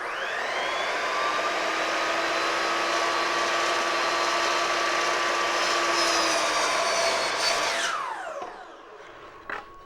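A miter saw cuts through trim stock with a loud, steady whine that holds for about eight seconds, then winds down as the blade spins to a stop.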